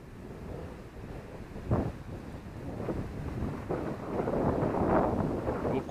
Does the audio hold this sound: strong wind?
yes